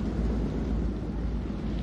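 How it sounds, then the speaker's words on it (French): Rumbling thunderstorm in the video game Man of Medan, a steady low roar of rain and distant thunder filling the space without a break. "Demande combien de temps l'orage va encore durer."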